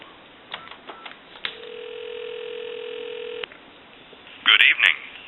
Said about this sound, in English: Give you some dial tone. We'll call a time and temp number.